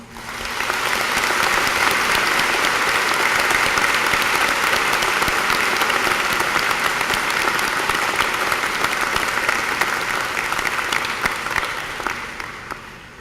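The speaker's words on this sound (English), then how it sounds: "Please give them a round of applause." Crowd at a high school graduation clapping for teachers and staff, dense sustained applause that swells in quickly, holds loud and even for many seconds, then tapers at the end.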